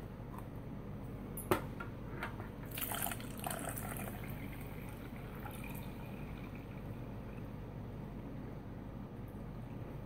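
Cold water trickles and splashes faintly from a ration pack as it's poured for a lemon drink, a soft liquid stream with a brief clink near the start and quiet pouring noises after.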